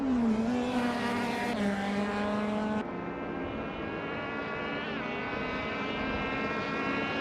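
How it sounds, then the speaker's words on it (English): A 2013 Peugeot 208 R2 racing car in a racing video game: a loud, steady engine drone that rises in pitch, then drops sharply partway through as the car shifts gear and keeps revving close by. "Cobber is driving a 2013 Peugeot 208 R2"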